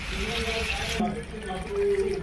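Water poured into a pan of chicken cooking for village-style chicken dum biryani, a close gurgling trickle and splash under a person talking.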